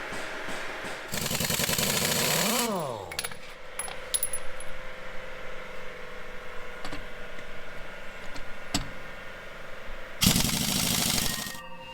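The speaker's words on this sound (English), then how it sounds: "we've got the mechanic blowing off the offside. He's going to blow the dust out and just clean it up" A mechanic blows dust off the offside of an overland expedition truck with compressed air, two loud broadband hissing blasts, one long burst early and a shorter one near the end, with clanks and workshop noise between.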